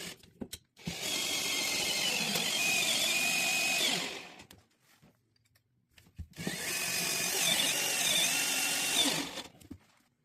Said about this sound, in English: now we're going to install the last 2 self-threading screws